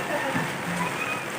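Heavy rain pours steadily in a dense, continuous hiss, fairly loud throughout, with a faint voice underneath.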